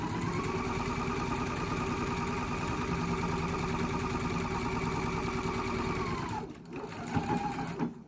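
A sewing machine runs a fast, steady whir as it stitches the top edges of a homemade fabric wine bag. It stops near the end, followed by a few brief handling sounds.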